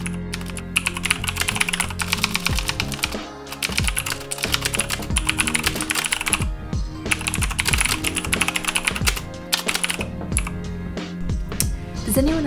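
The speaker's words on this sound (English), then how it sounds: "Though I am not much of a mechanical keyboard nerd yet, I do adore my green switches" Continuous clicky mechanical keyboard typing on green switches, steady rapid keystrokes with brief pauses, close and fairly loud, no voices.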